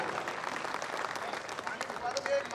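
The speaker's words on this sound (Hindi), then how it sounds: "आप जोरदार तालियां बजा करके उसको बड़े प्यार से सुने।" An audience at an evening poetry gathering in Umaria honoring martyrs applauds for a poet, with dense, moderately loud clapping and voices murmuring through it.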